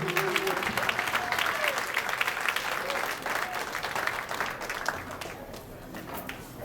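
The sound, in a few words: audience applause after spoken word performance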